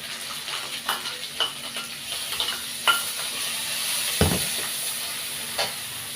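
Apple snails stir-fried in a pan with curry paste and vegetables give a steady, close sizzle and hiss, broken by scraping stirs and clinks of the utensil, with one sharper knock near the end.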